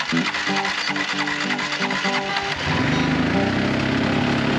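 Engine of a neglected Yamaha ATV running with its throttle stuck wide open, a loud continuous buzzing rev that climbs in pitch partway through and holds high.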